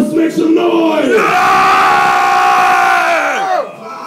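A live crowd at a metal concert roars with cheers and screams for several seconds, loud and close, the massed yelling swelling then cutting off abruptly.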